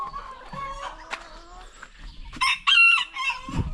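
Chickens on a homestead cluck and squawk nearby, a rooster-like crow rising loudly near the end, with scattered bird calls throughout.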